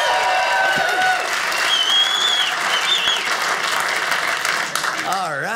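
A comedy club audience breaks into sustained, dense applause, loud and steady throughout, with a few whoops and voices mixed into the clapping near the end.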